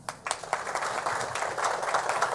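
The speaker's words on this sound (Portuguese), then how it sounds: "Então, vamos recebê-lo com aplauso." An audience applauds to welcome the curator at a lecture event, with dense clapping that starts with a few claps and quickly grows into steady, sustained applause.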